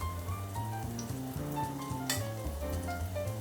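Chili peppers and garlic frying in olive oil in a pan, a close, steady sizzle and crackle under faint background music.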